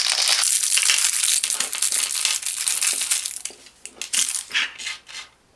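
Metal mounting bracket and screws for a Reolink Solar Panel 2 handled up close, giving dense crinkly rattling and clinking that thins into separate clicks and scrapes toward the end.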